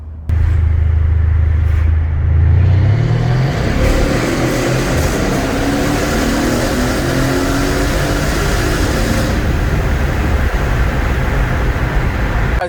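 Mercedes-Benz E63 AMG S on the road, a loud close engine roar that climbs through a rev sweep, then settles into a steady heavy drone with tire and road rumble.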